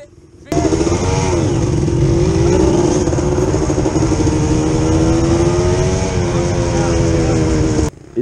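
A Kawasaki enduro motorcycle pulls away on a sand race course, its engine starting abruptly and holding a loud, close, steady drone with slight revving for several seconds before cutting off sharply.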